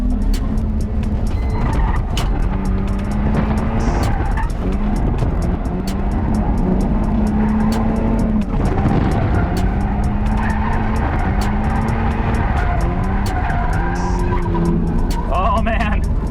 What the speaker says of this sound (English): The car is just completely sliding, like with no grip at all.